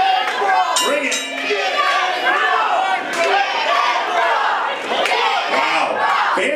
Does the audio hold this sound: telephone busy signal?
no